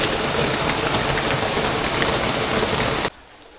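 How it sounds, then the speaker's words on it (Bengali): Heavy rain pours down steadily as a loud, dense, continuous hiss close by, then cuts off abruptly near the end, leaving near-quiet. "এখনও বৃষ্টি পড়তেছে, ভালোই বৃষ্টি পড়তেছে"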